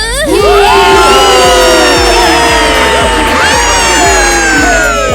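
A loud audience at a dance stage performance cheers and whoops, with high children's shouts rising above a dense, sustained crowd roar close to the listener.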